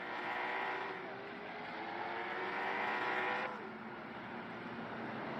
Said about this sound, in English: A few drivers racing back to the line.